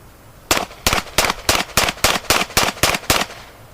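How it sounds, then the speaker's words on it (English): Ten rapid shots from a semi-automatic handgun fired as fast as possible at a target on a shooting range, sharp evenly spaced loud cracks in a steady rhythm, close and with no talking. "Held the gun out with two hands, aimed at the target, fired off 10 shots as fast as he could."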